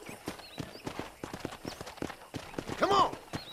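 Horse hooves clip-clopping in quick uneven beats in Red Dead Redemption as the rider mounts up and heads out to herd cows, near and moderately loud, with a brief whinny and some game sounds around.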